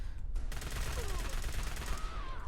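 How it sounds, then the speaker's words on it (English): Laser pistol shots from an AEP-7 weapon mod in Fallout 4, a rapid string of sharp zapping shots over a dense, noisy battle backdrop, close and loud. "it was a laser pistol battle and we won in the end"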